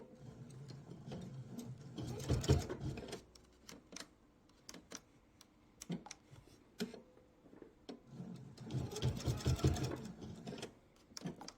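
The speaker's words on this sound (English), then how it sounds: "I'm going to sew right up to the end and then reverse." A sewing machine stitches in two loud bursts of rapid mechanical chatter, running up to the end of a seam on a laptop sleeve and then reversing, with quieter clicks and handling noises between the runs.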